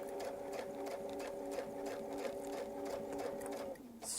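A sewing machine stitches a quilting line on a mini Baptist fan design, a quiet, fast, even run of needle clatter that stops just before the end.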